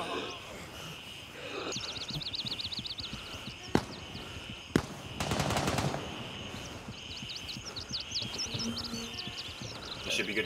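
Sniper fire in the military shooter Gray Zone Warfare: two sharp single shots about a second apart, then a brief rattling burst, set against steady ambient noise with chirping sounds.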